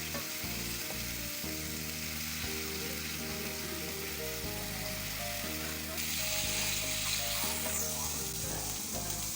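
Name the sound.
onions frying in oil in a pan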